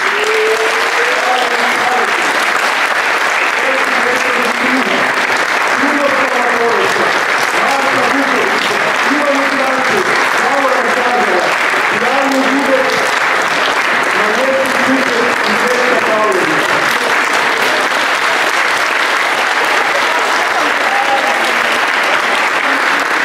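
Loud, sustained applause from a school audience honouring award-winning pupils at a school day celebration fills the whole stretch, with a voice talking faintly beneath the clapping.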